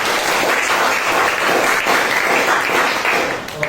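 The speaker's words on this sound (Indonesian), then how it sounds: "Berikan tepuk tangan untuk kelompok." A classroom of students applauds a student group after its discussion presentation, a short burst of steady, dense clapping close by that fades out at the end.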